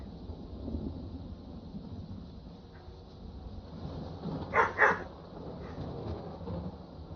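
A dog barking a couple of times in Skyrim, two short close barks standing out midway over a steady background hum and low ambient game noise.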